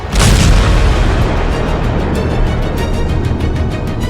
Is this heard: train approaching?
no